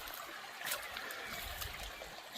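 Water trickling and splashing in the Kziv stream in northern Israel, a steady close babble with scattered brighter splashes throughout.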